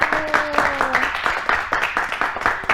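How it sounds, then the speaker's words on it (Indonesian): Classroom applause for a presenting group during a microteaching lesson, scattered handclaps in a quick uneven patter, moderately loud and close, with a brief tonal voice or sound early on. "Beri tepuk tangan untuk kelompok 1."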